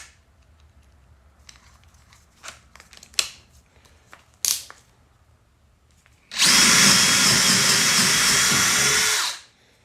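A power drill fitted with a DeWalt bit bores through wood in one loud, steady three-second burst, preceded by a few soft handling clicks and taps.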